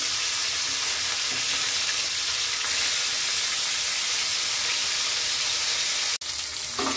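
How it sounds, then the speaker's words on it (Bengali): Fish fries in hot oil in a pan for Bengali doi bata, a loud continuous sizzle throughout with a sharp click near the end. "মাছটা লাল করে ভাজা হয়ে গেছে"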